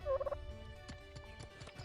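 Turkeys gobble in the medieval strategy game Hearthlands, a quick rattling gobble burst at the start followed by faint scattered game sounds.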